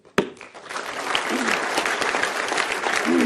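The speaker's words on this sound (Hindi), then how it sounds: "इनके लिए स्वतः ताली बज गई" An audience at a political talk breaks into spontaneous applause after one sharp clap and then builds into steady, dense clapping that carries on to the end.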